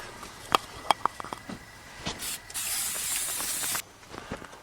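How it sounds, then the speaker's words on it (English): A bundt pan is greased for a cake: a few light taps and clicks come first, then a close, steady aerosol hiss runs for about a second and a half before cutting off. "I'm gonna grease up my pan."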